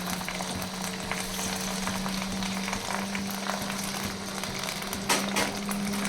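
Mustard flowers and taro leaves fry in a pan with chili, giving a steady, dense sizzle close by, with occasional stirring scrapes and no talk.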